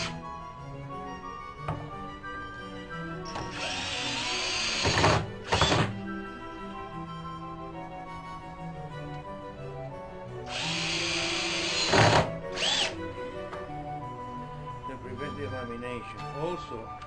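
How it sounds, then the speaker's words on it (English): Two short bursts of a power drill driving screws into the corner blocks of an antique chair being restored, each run lasting a second or two and set against steady background music. "Now I'm inserting a couple of screws in each corner to prevent delamination over time."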